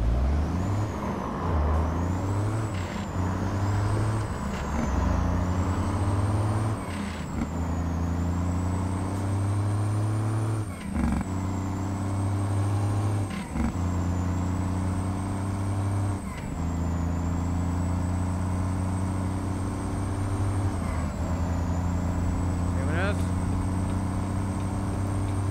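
The Optimus Prime truck idles with a steady low engine drone near a Colombian toll, its air brakes hissing and releasing in repeated short bursts as it creeps slowly forward; a high whine runs above the engine note.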